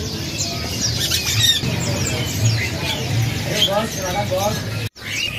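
Caged birds at a bird seller's stall squawk and chirp in repeated bursts while people talk nearby, the calls close and mixed with steady background noise.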